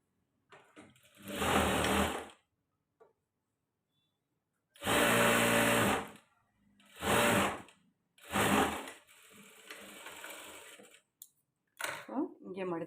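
Domestic sewing machine stitching a folded blouse seam, running in several bursts of a few seconds each with short pauses between. A person talks quietly in the gaps.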